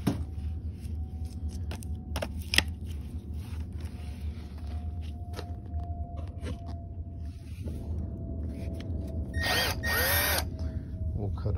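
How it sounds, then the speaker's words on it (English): A portable battery bandsaw runs at a steady motor whine near a length of pipe, a loud continuous drone with a few sharp clicks and a brief bright metallic rasp near the end. "portable bandsaw."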